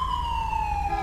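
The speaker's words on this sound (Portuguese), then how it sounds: "Deixa eu dar ali na sirene aqui." Police car siren in the GTA 5 video game, a steady electronic wail sweeping slowly downward, loud and close over a low engine rumble.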